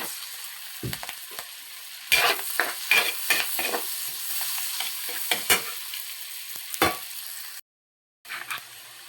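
Garlic and onion sauté in a pan for butter garlic shrimp, crackling and sizzling close by as a spatula scrapes and stirs in uneven bursts, with a short gap of silence near the end.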